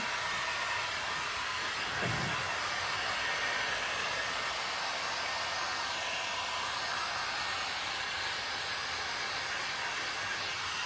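A heat gun blows hot air in a steady, close hiss and roar that holds at an even level throughout, with a brief low knock near the start.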